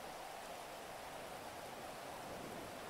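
Steady rain hisses in a GTA roleplay game world, a constant broadband wash of falling water with no breaks and no voices.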